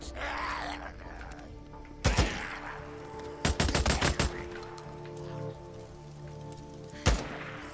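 Gunfire in the video game Days Gone: a few sharp shots and one quick burst of several reports over a steady ambient bed, with another lone shot near the end, fairly loud against quiet surroundings.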